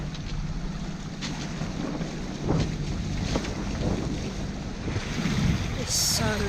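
A sailboat motors across a flat calm sea with no wind, its engine a steady low drone under constant wind and water wash, with faint splashes near the end and no voice heard.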